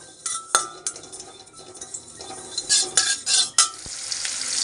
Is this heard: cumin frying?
yes